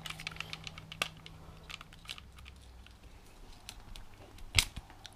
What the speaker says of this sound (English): Let's cut the sock off.